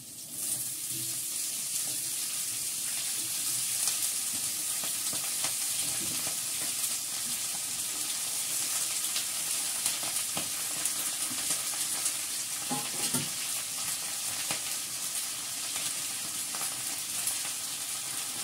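Cauliflower pieces fry in a pan with a steady, close crackling sizzle that runs without a break, broken by occasional scraping strokes as they are stirred. No voices are heard.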